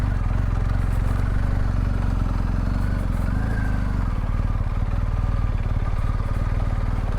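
A BMW 1250GSA adventure motorcycle rolls slowly along an easy dirt track, its engine giving a steady, close, low rumble with a faint rattle and no break throughout.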